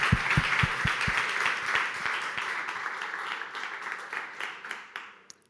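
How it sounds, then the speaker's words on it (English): A tech talk audience applauds the speaker, opening with several close, sharp claps over a broad wash of many hands that gradually thins and fades toward the end. "let's give him a big round of applause"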